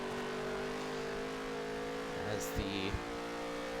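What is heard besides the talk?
dirt track race cars racing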